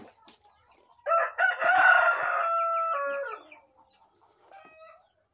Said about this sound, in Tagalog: Alam ng mga manok na may panganib